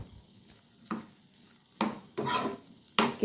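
A spatula scrapes and knocks against a pan while bottle gourd and prawns are stirred, giving several sharp clatters and scrapes in uneven rhythm over a faint sizzle, close and clear.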